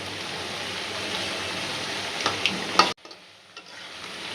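Oil sizzles and crackles steadily as frozen snacks fry, with a few stirring clinks before the sound cuts off abruptly near the end.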